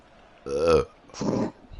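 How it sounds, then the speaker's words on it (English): A loud, deep stomach burp from a young man during a FIFA 17 Pro Clubs gaming session, in two long croaking gulps close to the microphone. "God, that was a minging burp. That was like a stomach burp."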